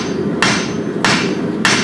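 Heavy hammer striking a hot copper ladle during hand forging, three loud, sharp metallic blows spaced roughly half a second apart with a steady hum underneath.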